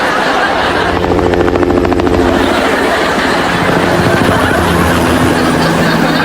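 A helicopter drones loudly and continuously with a steady rotor chop as it flies overhead, a sound effect in a sitcom, staying close and dominant throughout.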